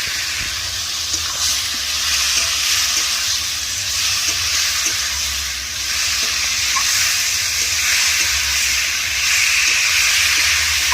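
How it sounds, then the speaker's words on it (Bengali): Potatoes fry with turmeric, cumin and coriander powder and a little water, giving a loud, continuous sizzle and hiss with light stirring scrapes, and no voices. "আলুটা একটু কষে নিয়েছি"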